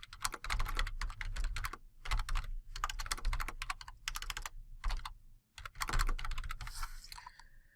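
Rapid keystrokes on a computer keyboard come in close, crisp bursts of clicking separated by short pauses, with no voices.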